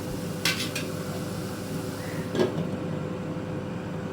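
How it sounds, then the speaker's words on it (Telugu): A lid is set onto a pot of carrot halwa cooking in ghee, with two short metallic clanks close by, about two seconds apart, over a steady low background hiss and no talking. "క్యారెట్ హల్వాకి కొంచెం మూత పెట్టి మగ్గిద్దాం"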